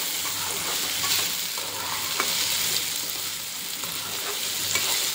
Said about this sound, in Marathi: त्यासोबत आपण परत बटाटे एकजीव करून घ्यायचे।